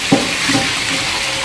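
Cobra meat stir-fried in a pot: a short burst of sizzling with a couple of stirring scrapes up close, brief and without talk.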